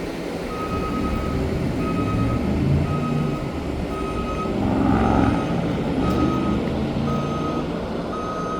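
A truck backing up on Main Street in Loganville gives out a steady series of evenly spaced reversing beeps over a loud engine rumble, close by, with no one talking.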